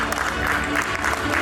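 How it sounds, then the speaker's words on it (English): An audience at a commission session breaks into loud, continuous applause, a thick close wash of clapping with some crowd voices mixed in. "एक बार जोर से तालियां हो जाए."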